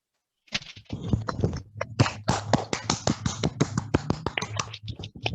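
Audience at a Toastmasters club meeting in Bangalore applauding, a room of people clapping with crisp, distinct, close hand claps that start abruptly and continue steadily for several seconds, with a low hum underneath.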